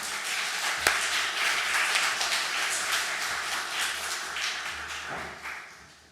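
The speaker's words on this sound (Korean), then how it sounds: "우리 박수로 두 사람 맞도록 하겠습니다" A church congregation applauds to welcome two deacons giving a short-term mission report, a steady wash of dense clapping that holds evenly for several seconds before tapering off at the end.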